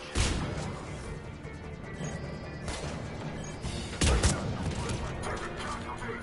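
Rifle shots in Mass Effect 3, a single-shot weapon firing one round at a time: two loud, sharp bursts stand out over a dense, noisy combat background with constant game effects.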